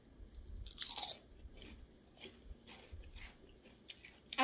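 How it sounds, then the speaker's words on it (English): Crunching bites into microwave pork rinds, a few crisp close-up chews with one louder crunch early on, then softer chewing, no talking. "I don't know if y'all can hear the crunch"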